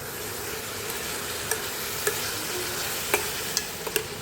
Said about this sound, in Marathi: आता ह्याच्यामध्ये काजू टाकायचे आपल्याला